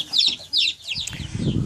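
Young Jubilee Orpington chicks in a back-porch brooder, several close, high chirps and peeps in quick bursts, followed by a brief flurry of rustling.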